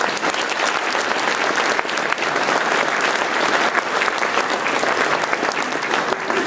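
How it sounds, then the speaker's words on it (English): Loud, continuous applause from an awards ceremony audience for campaigners, many hands clapping densely and evenly from start to finish in a large room. "So give them a round of applause even before they arrive."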